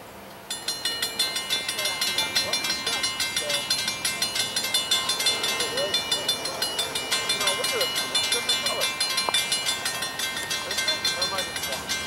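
A short Norfolk Southern freight train passes close by in Sandusky, Ohio, its rail cars rolling with a steady rhythmic clatter and high metallic squeal, loud and sustained throughout.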